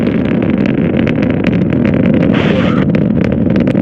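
Soyuz rocket engines roar during the Progress MS-30 cargo launch from Baikonur Cosmodrome, a continuous, dense rumbling broadband roar with crackling texture and wind-like noise throughout.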